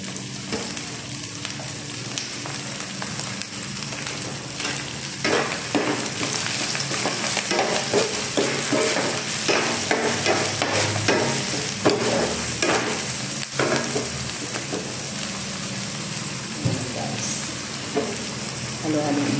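Seafood stirred and fried in a pan, destined to be cooked with bottle gourd, sizzles steadily with the scrape of a spatula stirring at intervals, while someone talks over the cooking.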